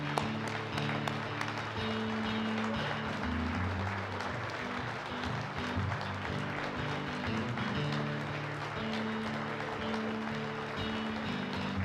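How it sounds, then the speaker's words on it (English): An audience gives a sustained round of applause at an Illinois Labor History event honoring Eric, steady clapping filling the room for about twelve seconds, with music-like tonal layers underneath. "Please join me in giving Eric a well-deserved round of applause."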